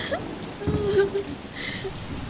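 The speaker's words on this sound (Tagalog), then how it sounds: "Bumuhos ang napakalakas na ulan sa loob ng 40 araw na walang tigil." Heavy rain pours steadily as a sound effect in a Tagalog audio drama about Noah and the flood, a dense, continuous wash of drops with a brief low swell, heard alone without voices.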